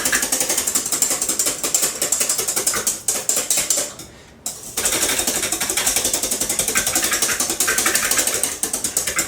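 A beater rapidly whips cream until thick, a steady close-up mechanical whirring and rattling that runs almost nonstop with a brief pause in the middle.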